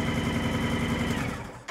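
A Honda motorcycle engine idles smoothly and fairly quietly, with an even, rapid pulsing beat close by that cuts off abruptly at the end.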